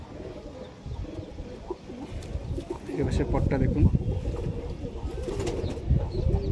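Desi high flyer pigeons coo in a low, repeated burble close by, under steady talk from a man.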